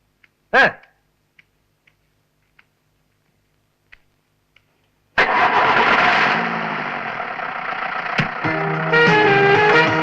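A vehicle engine cranks and catches, then runs loud and steady in a Malayalam comedy stage play, after a few faint clicks and a short burst of noise.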